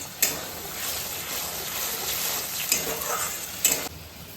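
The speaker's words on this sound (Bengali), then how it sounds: "পেস্টটা ভালো করে নাড়াচাড়া করবো" Spice paste frying in oil for a paneer dish, a loud continuous sizzle with a few sharp clinks of the stirring spoon against the pan, close up.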